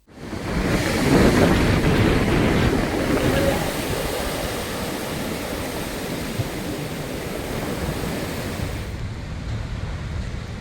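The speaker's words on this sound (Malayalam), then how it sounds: "ശക്തമായ കാറ്റിലും മഴയിലും കടൽ ഭിത്തിയില്ലാത്ത കടലോരത്ത് കടലേറ്റമുണ്ടായി" Heavy sea waves surge onto an unprotected stretch of coast with no seawall during strong wind and rain, a loud continuous roar of surf and wind noise filling the whole stretch without pause.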